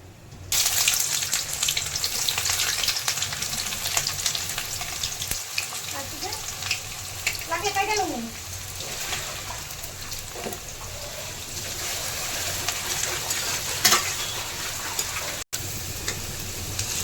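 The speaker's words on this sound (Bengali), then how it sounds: "এখন তেলটা গরম হয়ে গেছে, আমি এখন ফোড়ন দিব।" Whole spices tempering in hot oil on a stove give a steady, close sizzle that crackles on unbroken for the whole stretch, with a few faint background sounds over it.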